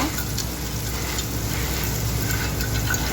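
Chopped onions frying in a pan of oil for a spicy brinjal dish, a steady, dense sizzle that stays loud and even throughout without any talk.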